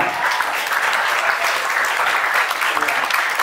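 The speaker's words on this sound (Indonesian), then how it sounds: "Tepuk tangan untuk anak-anak muda" A room full of people at a training seminar clapping, loud and sustained, a continuous wash of hand claps throughout.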